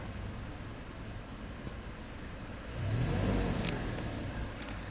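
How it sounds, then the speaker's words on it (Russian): A Toyota Land Cruiser Prado 150 with a 2.7 petrol engine fitted with an Italian gas conversion kit idles steadily while warming up on petrol, a close continuous engine hum that swells slightly midway. "Автомобиль греется на бензине и автоматически переходит на газ."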